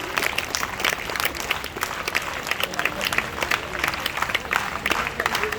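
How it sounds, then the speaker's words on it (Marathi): Guests at a school science exhibition receive loud applause from a crowd, dense rapid clapping that holds steady for several seconds. "जोरदार टाळ्या विद्यार्थी मित्रांनो आपल्या सर्व मान्यवरांसाठी आणि प्रमुख पाहुण्यांसाठी."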